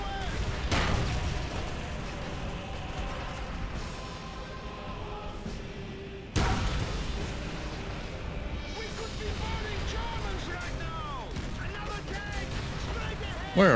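Tank cannon booms in Call of Duty World at War during the Peleliu battle, with Panzer IVs firing shells; heavy blasts sound at about 1 and 6 seconds over continuous battlefield rumble, with a player talking throughout.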